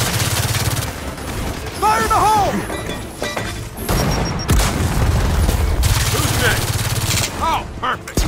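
Gears of War 4 combat: heavy explosions boom amid bursts of rapid gunfire and shattering debris, loud and dense, with shouted voices cutting through the battle noise.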